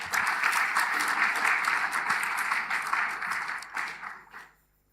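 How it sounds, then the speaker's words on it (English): A conference audience at the Africa Agriculture Science Week and FARA General Assembly breaks into applause for the new chair, a full, steady roar of clapping that holds for about four seconds before tapering off to silence. "A round of applause."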